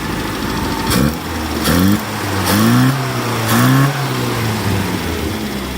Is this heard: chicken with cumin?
no